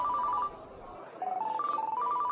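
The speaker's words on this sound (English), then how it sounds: "That's Joe's phone." A mobile phone rings with a repeating electronic ringtone melody, two bursts separated by a short gap, clear and fairly close in a quiet room.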